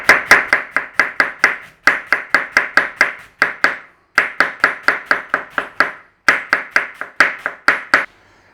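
A knife slices across half a cabbage on a board in a kitchen, making crisp, evenly spaced chopping thuds. They come in quick runs of several cuts separated by short pauses, close and clear with no talking.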